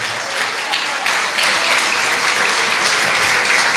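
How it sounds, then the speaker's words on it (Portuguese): A church congregation applauds at a worship service, a steady, dense wash of clapping from many hands filling the room without pause. "Uma salva de palmas para Jesus"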